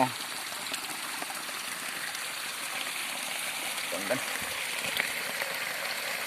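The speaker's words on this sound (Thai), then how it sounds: "น้ำไหลพรมๆอยู่" Water flows steadily in an outdoor fishing spot where a father and son check fish traps, a constant broadband rush with faint splashes throughout, with people talking nearby.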